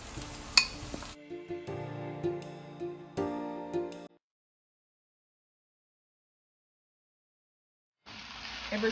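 Saltfish goes into vegetables frying in a pot for Jamaican pumpkin rice, giving a moderate sizzle with stirring clinks. The sound breaks off into several seconds of silence before the sizzling returns.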